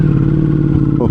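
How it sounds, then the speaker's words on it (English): Harley-Davidson Pikes Peak bagger with a full Akrapovic exhaust at cold start, a loud close deep engine rumble with a brief rev blip near the end. "I'm going to give you a nice cold start. This is now the full Akrapovic exhaust on this Pikes Peak"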